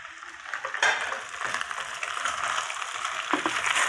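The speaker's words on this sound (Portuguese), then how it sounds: "vai pondo um pouquinho de água e vai deixando ele secar a água, vai fritando na gordura" Chicken frying in fat in a pan for pancakes, with a continuous crackling sizzle punctuated by scraping and stirring clatter, fairly close and with no talking.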